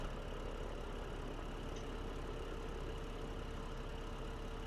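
A New Holland tractor engine idles in Farming Simulator 15, a steady low rumble that holds even and unbroken throughout with no speech over it.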